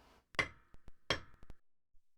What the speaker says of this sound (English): I'm going to use a big hammer